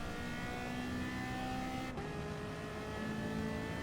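Ferrari engine in Gran Turismo Sport, a steady sustained drone with one gear-change dip midway, held loud and continuous throughout.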